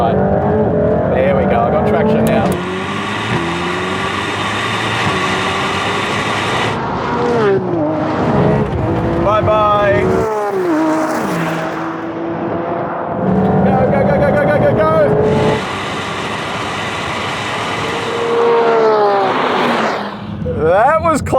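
A Lamborghini Aventador Ultimae and a Mercedes-AMG GT Black Series accelerate hard in a drag race, loud engine roars climbing and dropping through gear shifts, with excited voices talking over them.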